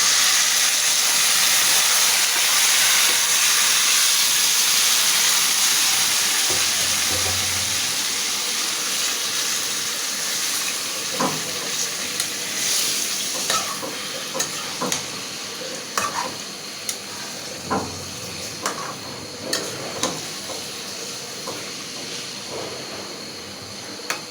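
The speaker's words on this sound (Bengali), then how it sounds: "এখন আমি মাংসটা দিয়ে দেব" Meat tipped into a pan of fried onions for a spicy chui-jhal braised mutton dish, a loud, steady sizzle that slowly fades, broken by scattered scrapes and stirring clacks in the second half.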